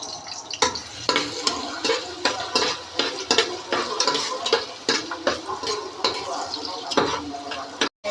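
Onions fry in a pan while being cooked for bhuna khichuri, sizzling continuously under frequent close scrapes and clatters of a utensil against the pan, with a brief drop-out near the end.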